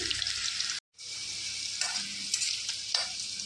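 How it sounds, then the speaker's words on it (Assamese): Potatoes sizzle and crackle steadily in a hot pan, with a brief moment of silence early on before the frying resumes. "প্ৰথমতে আলুখিনি ভাজি ল'ম।"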